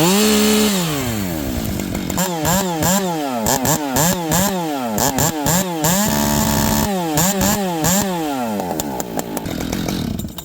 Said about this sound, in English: The throttle response on this saw is so lazy now